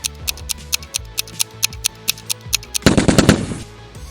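Glock 18 pistol firing full automatic, with a series of sharp, regularly spaced shots followed by a rapid, dense burst near the end.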